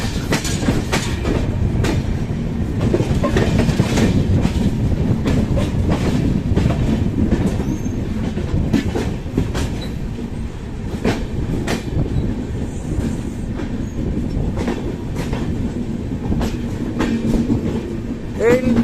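A New Delhi Intercity Express train rolls past close by, loud and continuous, with rhythmic clickety-clack of wheels over rail joints and rumbling wagons throughout.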